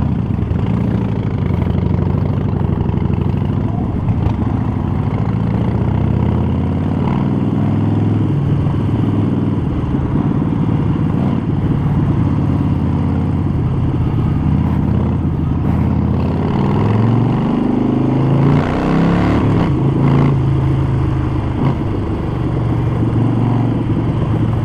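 Harley-Davidson Sportster 48 with a Vance & Hines short exhaust riding in traffic, its deep engine rumble loud and steady throughout, shifting in pitch as the bike accelerates and slows.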